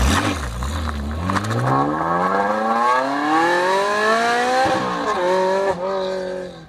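A 2003 Cizeta V16T supercar's rare V16 engine revs loudly and alone, its pitch climbing steadily through a long build before dipping and surging again near the end.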